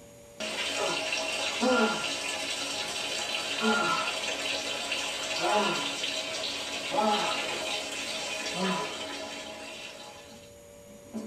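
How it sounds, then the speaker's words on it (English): Water splashes and gushes steadily over a towel during self-waterboarding, with rhythmic surges about every two seconds as it is poured, loud and close. "they pour water over that towel, and so it's supposed to simulate the sensation of drowning"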